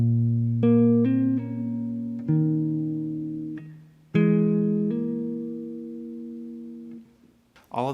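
Electric or acoustic guitar plays the first half of a riff, sustained picked notes with hammer-ons ringing out alone at a moderate, relaxed pace.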